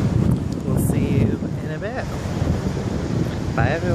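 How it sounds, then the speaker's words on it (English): Steady wind buffets the microphone on a beach in Lanzarote, with a constant roar like surf in the background and brief voices speaking over it. "It's a bit windy, it's absolutely boiling. It's always windy here."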